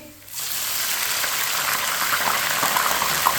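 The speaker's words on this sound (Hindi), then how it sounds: "इसमें थोड़ा सा पानी डालेंगे," Water poured into a pan of lightly browned onions for pulao, a sudden loud rushing hiss and bubbling that starts abruptly and carries on steadily.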